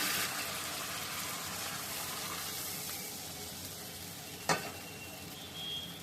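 Fish and gravy simmering in a pan of spiced oil, a quiet steady sizzle with a single sharp clink partway through, no talking.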